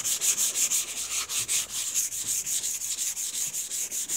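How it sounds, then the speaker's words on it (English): Wet sanding a car hood by hand with 400 grit waterproof sandpaper: rapid, rhythmic back-and-forth swishing strokes, about three per second, close and steady throughout with no voices. "I'm using 400 grit sandpaper, waterproof."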